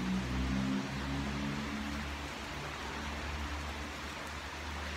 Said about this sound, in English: it's now 4 o'clock and it's still raining